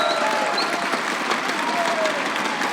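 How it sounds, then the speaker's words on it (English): A large crowd at a Rainbow Six esports finals in Las Vegas applauds steadily, loud and dense clapping with a few cheers mixed in. "If I could get a round of applause for those guys again coming out here."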